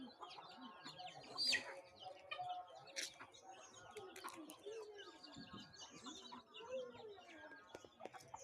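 Chickens on a poultry farm cluck and call in a steady, busy chorus at moderate distance, with scattered sharper squawks and faint chirps among them.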